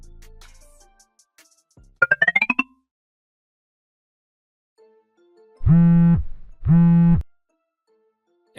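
An incoming call sets off a phone ringtone, two buzzy, harmonic tone bursts in quick succession after a quiet stretch, with no one talking.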